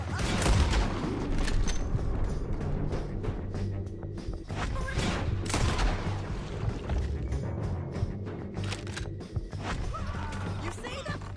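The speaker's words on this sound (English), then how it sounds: "Can you help with the shooting? There's more of them." Gunfire in Red Dead Redemption 2 crackles in dense, irregular bursts of sharp shots and booms, layered over a constant background din with mechanical clatter.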